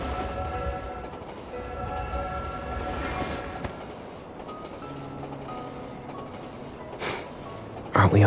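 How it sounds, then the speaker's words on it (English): A train pulls away in a video game, a steady rumbling rail sound with tonal hums and squeal-like lines running throughout, rising in level briefly near the end. "Hold on tight. The train is about to leave."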